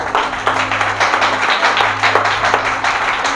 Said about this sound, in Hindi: मिलकर तालियां बजाएंगे।